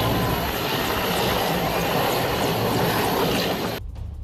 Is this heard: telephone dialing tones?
no